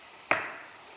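A knife cuts through an eggplant into quarters on a board in a cooking show, giving a single crisp chop with a short ringing tail in an otherwise quiet kitchen.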